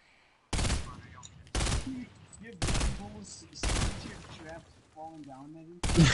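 Gunfire in Fortnite comes as five loud, separate bursts of rapid shots, each lasting under a second. Players talk between and under the shooting.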